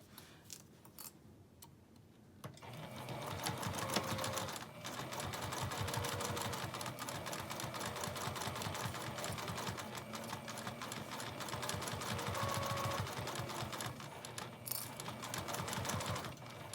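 A sewing machine runs steadily, stitching the final seam of a double zip case, with a continuous rapid mechanical ticking that holds for most of the stretch after a brief pause, fairly quiet and close.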